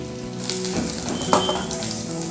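Potato pieces frying in hot oil in a home kitchen, a steady close sizzle with soft crackles and a brief clatter midway, no voices.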